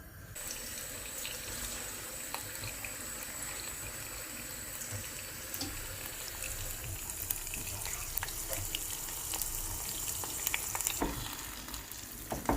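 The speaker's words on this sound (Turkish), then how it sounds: "Salçamızı iyice kavuruyoruz." Tomato paste sautéing in a pan for stuffed köfte sauce, a steady close sizzle and hiss with occasional stirring scrapes and pops throughout, no talking.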